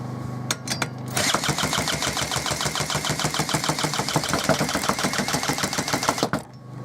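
Gardenline chainsaw petrol engine cranked with the choke on, a fast rhythmic mechanical chugging that runs steadily for about five seconds without catching, close and loud, preceded by a few short clicks.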